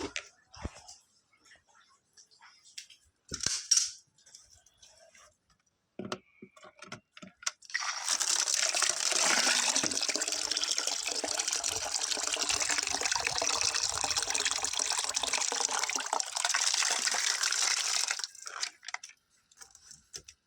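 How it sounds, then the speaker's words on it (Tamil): Scattered knocks and clatter from a small bucket, then about ten seconds of steady gushing as a liquid mix diluted with plain water is poured onto garden plants, including a burnt banana plant. "இதில் அரைவாளி பச்சை தண்ணி கலந்துட்டு நம்ம செடிகளுக்கு ஊற்றுவோம்."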